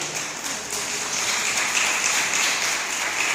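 A church congregation applauds steadily throughout, a dense wash of many hands clapping at even loudness with no voices.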